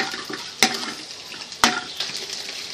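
Chicken 65 marinade with red chili powder, red food colour, black pepper and salt being mixed in a bowl, a soft wet squelching stir punctuated by two sharp clinks of a utensil against the bowl.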